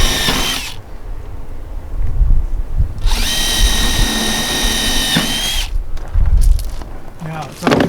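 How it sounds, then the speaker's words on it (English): A power drill boring holes on the fixed side of a doorway while a retractable double-door screen is installed, running in two sustained whirring bursts of about two seconds each with short pauses and thumps between them. "Now it's all drilled and ready to go."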